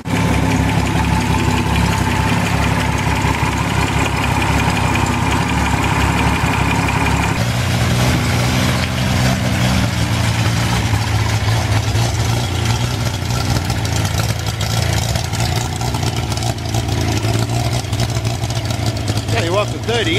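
A car engine around 30 years old runs at steady idle on a homemade engine stand built from offcuts and scrap, a loud continuous low rumble throughout with a shift in tone partway through.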